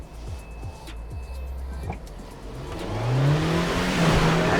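A Maruti Suzuki Jimny off-road SUV powers through slush at full throttle, its engine note climbing into a loud, rising rev that builds steadily toward the end amid splashing.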